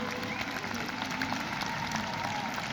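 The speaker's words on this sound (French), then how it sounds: "Brice Canario, que vous pouvez applaudir très très fort." Spectators applaud at a fireworks and dance festival in Gascony, a continuous, even wash of many hands clapping that holds steady without pause.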